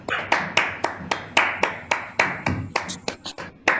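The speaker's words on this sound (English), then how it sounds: "invite everyone to turn on your microphones and cameras if you'd like, and give a round of applause to our speakers today" At an online event, one person claps for the speakers, about a dozen sharp hand claps in a steady rhythm, close to the microphone. A few quicker, lighter claps come near the end.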